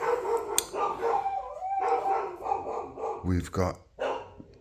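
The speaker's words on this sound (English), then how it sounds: "The dogs are going mad" Dogs on a Thai farm bark and howl in loud, close bursts, with yips and drawn-out howling tones, while someone talks over them.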